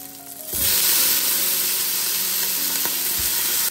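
Beef hits a pan with a light layer of oil while a beef curry cooks. A loud, steady sizzle bursts up after a brief quieter moment and then holds strongly to the end with no voices.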